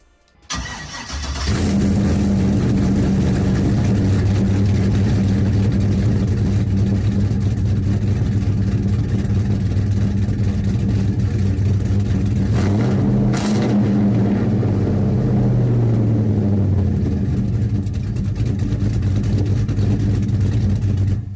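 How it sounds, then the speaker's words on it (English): An OBS Chevy truck's LS-swapped Hummer H2 engine fires up and settles into a deep, loud, rumbling idle through dual Spin Tech 6000 series mufflers, with a brief rev partway through. "We got dual spin Tech 6000 series mufflers on this thing, and it sounds so rowdy."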